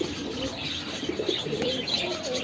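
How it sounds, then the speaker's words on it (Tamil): Pigeons coo softly in a bird shop, low rolling calls repeating amid faint chirps and background shop noise, fairly close and without speech. "அது சாதா புறா தான்"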